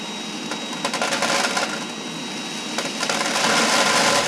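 A suction column draws up seeds with a steady airy rush, broken by brief bursts of rattling and clicking as seeds are pulled in. The level is moderate and rises slightly toward the end.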